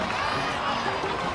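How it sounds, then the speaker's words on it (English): Crowd cheering and applause from a celebration in the video game Genshin Impact, a steady dense wash of festive noise throughout, with no clear single voices. "Let's give a huge round of applause to our brave young warrior,"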